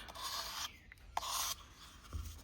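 A tool scrapes and rubs through resin casting powder at the edge of a mixing container in short, dry rasping strokes, close and fairly quiet, with brief pauses between passes.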